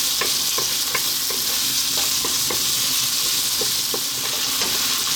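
Onion sizzles steadily in hot oil in a pan alongside potatoes, with repeated scraping and stirring strokes over a dense, continuous frying hiss, close and loud with no voices.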